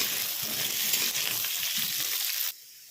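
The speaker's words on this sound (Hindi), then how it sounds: "तेल हमारा गर्म हो चुका है, उसमें हम आलू फ्राई करेंगे।" Potatoes frying in hot mustard oil in a kadhai, a loud, dense crackling sizzle that runs steadily, then drops off abruptly near the end.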